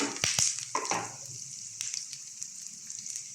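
Onion and garlic hit hot oil in a pan for ginisa with tofu, a few loud splashing clatters of stirring at first, then a steady close sizzle of frying that continues alone.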